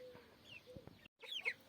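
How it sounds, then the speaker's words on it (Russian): Young chickens and half-grown ducklings in a farm pen cluck and peep softly in short, scattered calls, faint and close, with a brief silent gap before a few brighter chirps. "здесь уже вот такие вот цыплята, утята подрощенные"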